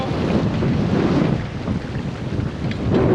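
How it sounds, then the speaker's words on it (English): Strong wind at sea buffets the microphone aboard a sailing boat in a steady rushing roar, with faint water sounds beneath. "There's quite windy today"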